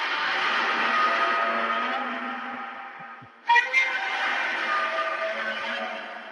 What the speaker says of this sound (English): That's when they gobble, they don't gobble like a normal turkey.